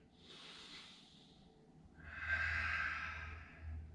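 Slow, deep breathing during a Downward Dog yoga pose: a long airy inhale, a pause, then a fuller hissing exhale through the nose, close and quiet.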